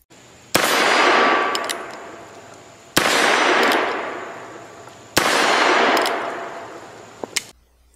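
Three sharp Heritage Arms Rough Rider revolver shots ring out about two seconds apart, each a loud close crack with a long decaying echo, followed by a couple of faint metallic clicks.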